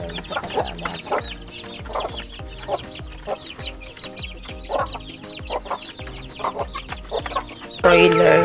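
Broiler chickens cluck on a small farm. Several birds make overlapping clucks and short calls at close range in an irregular, busy rhythm, with a louder burst of sound near the end.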